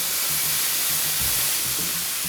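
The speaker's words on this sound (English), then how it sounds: "And that sizzle is exactly what you want to hear." Beef fillet searing in a hot pan, giving a steady, close broadband sizzle with hissing spatter throughout and a few low knocks and shuffles from handling the meat.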